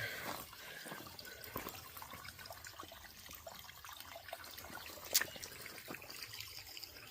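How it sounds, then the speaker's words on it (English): Small calm stream trickling gently at a water crossing on a wooded backpacking trail, a soft continuous babble close by with no voices. "just a nice little calm stream."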